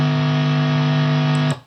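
A distorted guitar amp with no noise gate holds a steady, buzzing hum and hiss for over a second, then the tone drops away as it cuts off.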